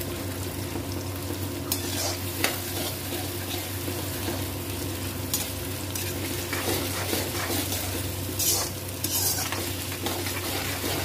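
Tomatoes stirring and frying in a pan for a cabbage and pea sabzi, a steady close sizzle with scraping spoon strokes and occasional clinks, with no talking.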